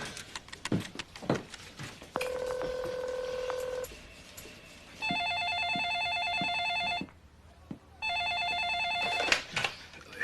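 A telephone is dialed with a few clicks and a short keypad tone, then the line rings in two long electronic ring bursts separated by a pause, loud and close.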